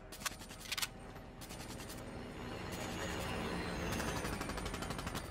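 Rapid bursts of automatic gunfire from Black Ops 3 Zombies, the video game, crackle in short volleys early on, then settle into sustained dense shooting over a steady background roar, fairly loud throughout.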